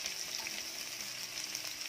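Onion frying in a pan for a Malvani egg curry, a faint continuous sizzle and crackle that holds steady throughout, alone without talk.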